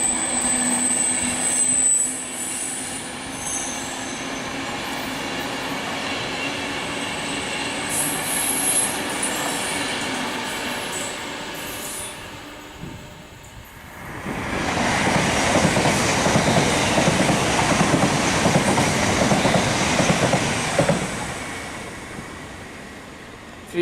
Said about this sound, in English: It is another Pendolino, I believe. Yes, it is. It's going very slowly.